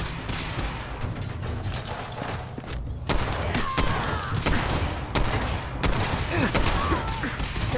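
Gunfire in the Fallout 4 video game during a fight with a Courser: repeated shots and bursts over a constant background layer of game sound, with a few louder impacts toward the end.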